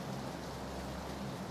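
Steady rain in the video game PUBG, a faint, even wash of falling drops with no breaks and no voices.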